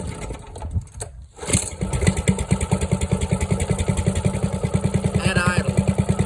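Small engine ticking over at idle after an oil check, a steady rapid putter that settles in after a brief start-up surge, close and fairly loud with no talking over it.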